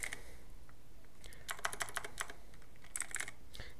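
Quiet bursts of rapid keystrokes on a computer keyboard, a few scattered taps followed by two quick clusters of typing, close and dry with no talk.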